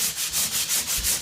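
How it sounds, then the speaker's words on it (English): Rhythmic sanding, a rough rubbing scrape repeating back and forth about five times in a steady, close stroke. "Are you sanding?"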